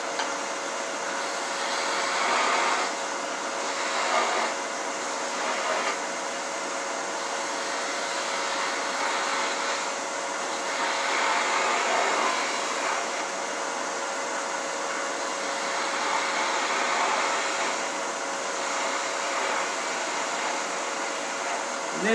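A skew chisel cuts along wood spinning on a lathe mandrel, giving a steady close whirring hiss with slight swells in intensity throughout, with no talking.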